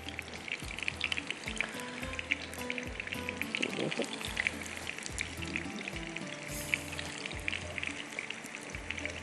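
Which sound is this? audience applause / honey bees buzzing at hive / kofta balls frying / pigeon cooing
kofta balls frying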